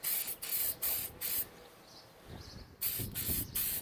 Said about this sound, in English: We'll spray a little more on there.